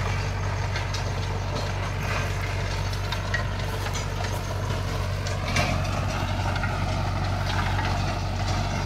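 Tractor ploughing a field of pearl millet stubble, its engine giving a steady, continuous low drone at moderate distance with faint mechanical clatter over it, no voices.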